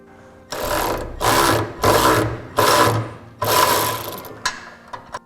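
A power tool tightens the locking nut on a gooseneck trailer hitch fitted in a 2012 Ram 2500, in five loud mechanical whirring bursts followed by a few short clicks.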